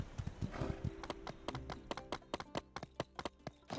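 A horse gallops in the video game My Time at Sandrock, a fast run of close, crisp hoofbeats with a brief whinny near the start, heard on its own without talk.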